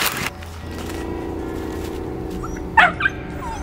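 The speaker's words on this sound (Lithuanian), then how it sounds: "Kažką matau, šunis." Dogs heard faintly under a low steady background hum, with a short burst of yips and whimpering near the end, no talk over it.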